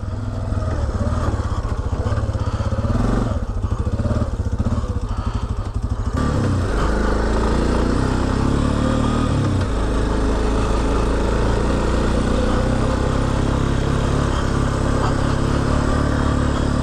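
A Yamaha Big Bear 400 ATV engine runs steadily and close on a test ride, a continuous loud motor drone that shifts in pitch partway through as the throttle changes.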